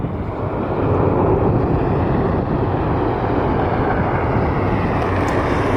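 Boeing 737-900ER airliner in Evo Blue livery flying overhead on a cloudy day, a steady broad jet roar that holds loud and even throughout.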